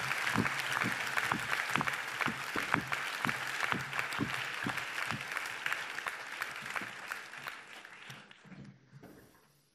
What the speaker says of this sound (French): Nous pouvons l'applaudir tant sa performance est extraordinaire.